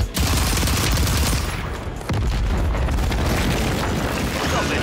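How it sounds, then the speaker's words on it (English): A precision airstrike in the video game Warzone 3 unleashes heavy, rumbling explosions that roll one into another, loud and close for nearly five seconds, with a brief dip before the blasts surge again. "Enemy precision airstrike. Find cover."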